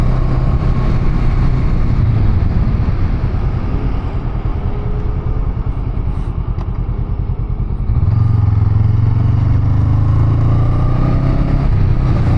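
Honda Rebel 500 parallel twin engine cruising on an interstate, a loud continuous low drone with steady rumble and wind roar, shifting to a deeper, heavier tone in the last few seconds.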